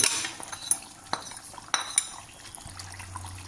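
Duck curry stirred in a pot after black pepper goes in, with a few sharp metal utensil clinks and scrapes against the pot over a low simmering bubble, no talking.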